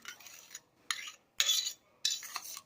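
Egg and sugar being mixed in a bowl with a spoon for Bombay toast, four quick bursts of clinking, scraping whisking separated by short pauses, close and fairly crisp, with no talking.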